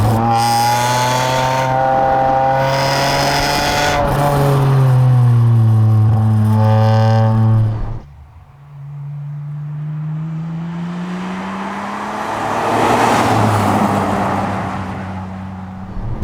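A Ferrari 550 Maranello accelerates hard on a road, its loud engine rising through the revs, cutting off sharply at a gear change, then pulling again with a broader roar.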